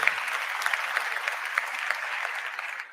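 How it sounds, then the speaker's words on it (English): A product launch audience for Odoo v17 breaks into brief applause, a steady wash of many hands clapping at moderate distance that tapers off at the end. "yeah, thanks, you can applaud"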